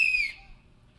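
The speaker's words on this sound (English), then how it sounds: "Whenever you guys hear this sound, I want you guys to stop talking and pay attention to whoever has this whistle" A single whistle blast rings out sharp and loud as an attention signal at a vacation Bible school gathering, a steady high tone lasting about a third of a second before cutting off into quiet room noise.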